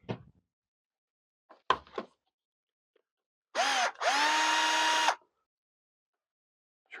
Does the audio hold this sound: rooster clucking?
no